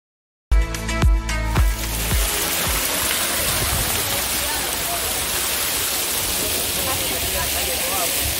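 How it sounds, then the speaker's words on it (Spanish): Waterfall at the Amapulapa water park in San Vicente, El Salvador: a steady, broad rushing roar that fills the scene after a few sharp thumps and splashes at the start. "Linda cascada de mágicas aguas."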